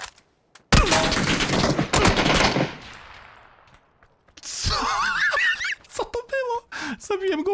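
Automatic gunfire rattles loudly in a PUBG match, a dense burst of rapid shots that fades into the sound of the game, then the player talks and laughs afterward.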